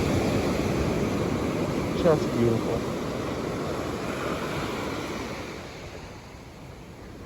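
Ocean waves wash steadily onto a beach at Vero Beach, a continuous broad roar of surf with some wind noise, while a person speaks briefly over it.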